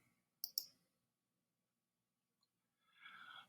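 A computer mouse clicks an OK button while a new sequence is created in Premiere, heard as two quick, close, crisp clicks in near silence, followed later by a faint breathy noise.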